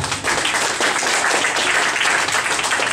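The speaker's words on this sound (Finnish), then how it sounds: "Anna Jussille aplodit asuudesta." A crowd at a jazz club in Turku claps in loud, continuous applause, a steady wash of many hands throughout.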